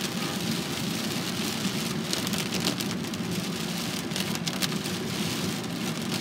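Hail and heavy rain drum on a car during a supercell thunderstorm at West Head, a dense steady patter with sharper ticking impacts throughout, heard from inside with no talk.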